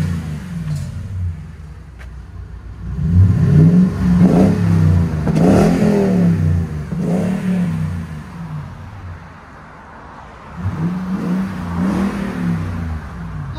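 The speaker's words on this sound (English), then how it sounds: "Especially the BORLA Pro XS's." A 2021 Toyota Tundra TRD 5.7L V8 with an X-pipe and Borla Pro XS exhaust revs repeatedly, a deep burbling growl that swells with each blip of throttle and drops back toward idle between pulls, heard close and alone.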